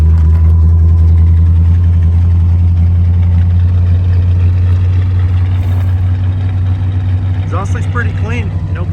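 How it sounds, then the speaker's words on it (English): A 1976 Dodge Coronet ex-California Highway Patrol car with a 440 V8 settles into a loud, steady low idle, its rumble constant throughout, with a voice briefly speaking near the end. "There she starts. All right, let's see how long she runs for."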